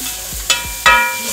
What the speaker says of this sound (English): you just need to add a bit of oil here because you need these onions to cook